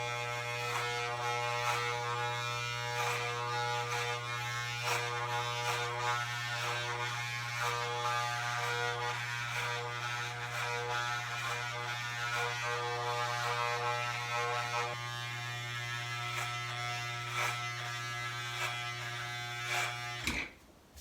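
Electric hair clippers buzz steadily and close up during a home haircut, a continuous motor hum with a strong low drone and faint shifts as they cut through hair, running for about twenty seconds before switching off abruptly.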